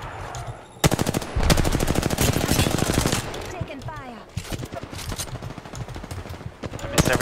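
Gunfire in the Apex Legends video game, a loud sustained automatic burst followed by a stretch of rapid shots, then sparser scattered shots with brief pauses and a final quick burst near the end.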